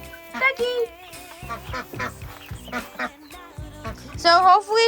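Pet ducks quack loudly and close by in a rapid, overlapping series of nasal calls, with a voice or other honking sounds mixed in, on a small home farm with chickens.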